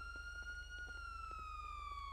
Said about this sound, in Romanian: Uite că a venit poliția.